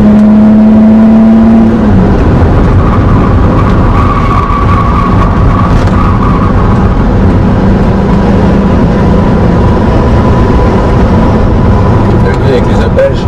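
A Chrysler LeBaron convertible drives on a race circuit, its engine a loud, steady interior drone that rises in pitch at times, with a person talking over it throughout.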